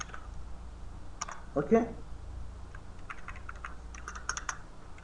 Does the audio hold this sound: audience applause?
no